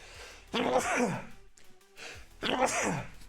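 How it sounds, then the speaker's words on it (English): Two breathy, explosive bursts about two seconds apart, like a sneeze and then another, close and moderately loud. "I'm gonna sneeze."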